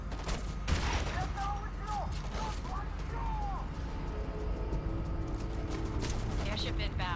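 Gunfire in the shooter game Homefront: The Revolution, a sustained rattle of shots and mechanical clatter under continuous game noise, with someone talking over it.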